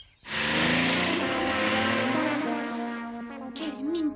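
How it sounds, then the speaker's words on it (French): Dad's car pulling up in an animated mountain setting: a loud, steady engine drone with a strong humming tone that holds for several seconds, then wavers and surges near the end. "La voiture de papa, il m'a suivi."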